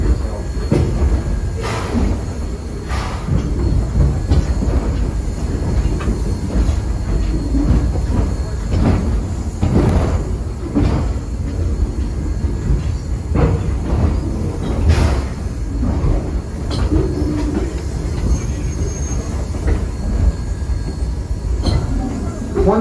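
A train rumbles steadily along the rails with a deep continuous roar, occasional metallic clanks and brief squeals rising above it.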